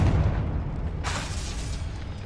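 A spell in the Hogwarts Legacy video game lands with a deep booming blast followed by a bright crackling burst about a second later, loud and close, with no voices.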